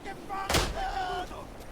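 A single sharp gunshot in the World War I shooter Isonzo cracks out mid-clip amid game noise, while someone speaks before and after it.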